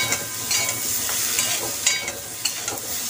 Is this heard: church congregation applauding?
no